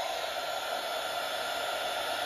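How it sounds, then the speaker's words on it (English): A heat gun blows hot air onto an action figure's shoulders, a steady even hiss-and-whir of airflow, constant and moderately loud with no talking. "I'm going to heat up his shoulders with this heat gun here."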